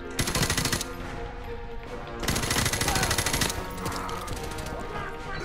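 Rapid automatic gunfire from the Call of Duty Modern Warfare Remastered campaign on PS4 rattles in two dense, loud bursts with a short lull between them, followed by scattered shots and game sounds.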